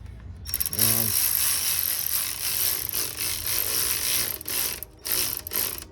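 A hand ratchet snugs up the hub bearing retainer on a 1999 Polaris Sportsman 500 ATV, clicking in a quick steady run of sharp metallic pawl clicks, close and fairly loud with no one speaking.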